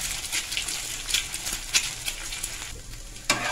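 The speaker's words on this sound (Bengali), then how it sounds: "আমি ডিমগুলো আস্তে আস্তে করে দিয়ে ডিমটাকে ভুজিয়ার আকারে ভেজে নেবো।" Eggs frying in a little oil in a pan, scrambled into a bhujia for a spring roll filling: a steady close sizzle with scattered crackles and a few sharper pops.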